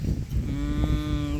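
A water buffalo gives a single drawn-out moo, close and loud, against a low background rumble.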